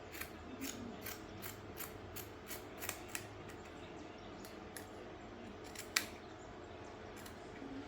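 Scissors snip through a fabric sleeve piece for a kids' two-piece outfit, a run of soft, close, fairly quiet cuts at an uneven rhythm with one sharper snip near the end, and no talking.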